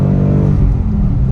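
A 2019 Ford Mustang GT V8 pulls hard at high revs with a loud, steady, close engine roar throughout, and no clear gear change is heard.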